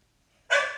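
A single sharp dog bark bursts in suddenly after near silence, loud and close, then rings briefly.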